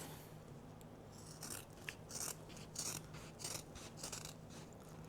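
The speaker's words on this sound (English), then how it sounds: "And then I'll trim down that seam." Scissors snip along a sewn fabric bag seam in a quick series of crisp, rhythmic cuts, close and very quiet, with no voice.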